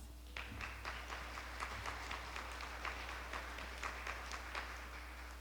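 Guests at the Crystal Eagle dinner honor past recipients with steady, moderately distant applause that holds at an even level over a low constant hum.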